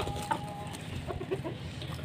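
Several hens gathered together cluck softly and intermittently nearby while waiting for greens, short calls scattered over a low background murmur.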